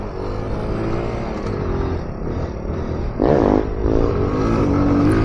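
A motorcycle engine drones steadily, then surges into a sharp, loud rev as the rider shifts from first to second out of a wheelie, with the revs holding high afterward.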